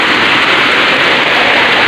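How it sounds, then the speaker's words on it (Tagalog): Heavy rain pounds down in a dense, loud, continuous roar, close and steady, with no voices. "So malakas yung ulan, as in malakas yung ulan."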